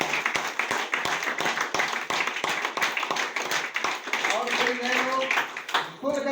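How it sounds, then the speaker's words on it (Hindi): A meeting audience claps loudly in steady, rhythmic unison, sharp close hand claps repeating quickly before a voice starts talking near the end. "जोरदार ताली भैया"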